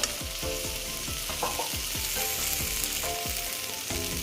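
Bitter gourd and potato sautéing in a pan, a steady close sizzle with repeated stirring scrapes at a regular pace, no voices.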